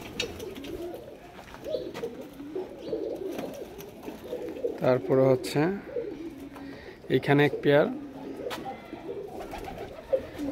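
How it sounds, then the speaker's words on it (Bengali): Pigeons in a Bangladeshi pigeon house housing Myna-beak pigeons, with pairs sitting on eggs and chicks nearby, give soft repeated coos in two short bursts while someone talks quietly over them. "আরেক জোড়া পুরান কবুতর মাদি ডিম নিয়ে বসে আছে, সাথে হচ্ছে নর।"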